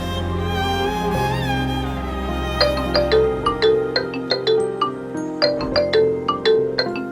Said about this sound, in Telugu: ఇదేంటి శివాని కాల్ చేస్తుంది?